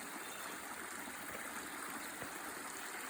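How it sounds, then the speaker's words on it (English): A small waterfall trickling along a road with snowmelt nearby, a soft continuous rush of flowing water heard steadily and quietly with no voices. "This little waterfall is trickling a little bit."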